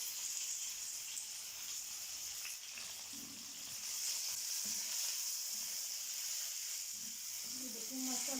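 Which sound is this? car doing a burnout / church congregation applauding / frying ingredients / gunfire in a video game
frying ingredients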